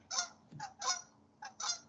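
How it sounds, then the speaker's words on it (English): Geese honking in the open sky, four loud calls in an uneven rhythm, each a harsh nasal blast with no voices alongside. "There's geese in the sky."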